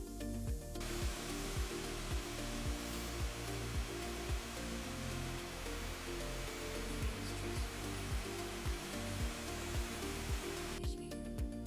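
A vacuum cleaner runs steadily while sucking up debris from a floor during a house cleaning, a loud continuous whooshing roar with rhythmic knocking underneath that starts abruptly and stops near the end, with no voices.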